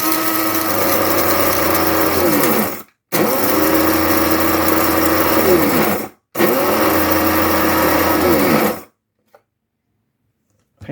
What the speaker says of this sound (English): Then we're going to grind. It's going to be loud.